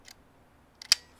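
A Pentax 17 film camera shutter fires in a couple of quick, close mechanical clicks, with a sharper snap standing out against a quiet background.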